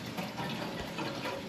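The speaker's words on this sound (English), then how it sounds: "Water's running" Water rushes steadily through the pipes of a home heating boiler as it starts up, a continuous close hiss and gurgle with no talking.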